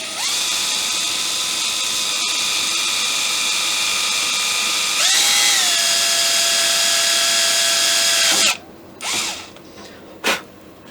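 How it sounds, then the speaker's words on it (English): Power drill boring a hole with a 1/16-inch bit into thin wood on a Kibler colonial flintlock rifle kit: a high steady whine whose pitch dips once as it loads, then stops, followed by two short bursts. "So I'll go to a 16th inch bit in my drill here"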